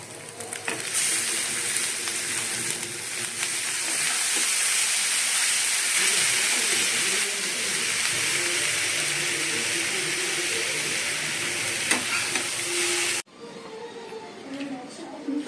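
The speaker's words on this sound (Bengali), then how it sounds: "বন্ধুরা আলুগুলো ভেজে নিয়েছি, দিয়ে ডিম দিয়ে দিয়েছি, ম্যাগিটা দিয়ে দেবো।" Potatoes, egg and Maggi noodles frying together in a pan give a loud, steady hiss that runs for most of the clip and then cuts off abruptly near the end.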